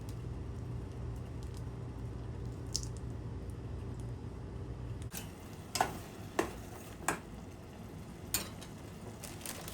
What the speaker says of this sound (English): You can add the chorizo, however much you want.